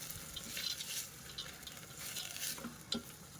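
Cashews and raisins are stirred in a pan for a fasting-style pulao, making a close, soft scraping and sizzling sound with a few light taps of the utensil.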